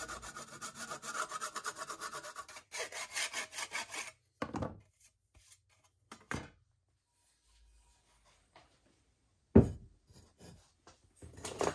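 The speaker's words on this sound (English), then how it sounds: "I use a file to take off all the burrs from the sawing process" A metal file scrapes burrs from the edges of sawn copper sheet in a garage, with rapid rasping strokes at first and then scattered short scrapes and knocks separated by pauses, close and fairly loud.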